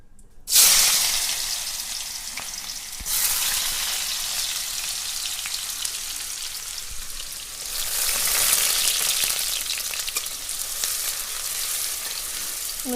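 Carrots dropped into hot oil in a kadai, a sudden loud sizzle that bursts up and holds steady, swelling again midway as more goes in, close and continuous without voices.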